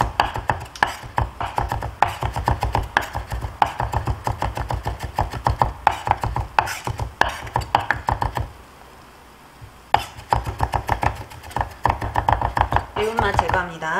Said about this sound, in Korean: 채 썰고 모아서 다져주세요. 그리고 뒷날로도 다져서